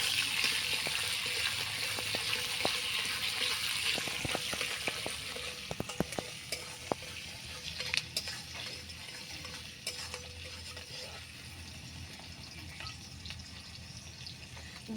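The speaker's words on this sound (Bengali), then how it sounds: "এখন আমি এই পেঁয়াজগুলি একটু লাল লাল করে আমি ভেজে নেব" Chopped onions and slit green chillies fry steadily in hot oil in a pan, a constant close sizzle broken by scattered clicks and scrapes of a spatula stirring, with no talking.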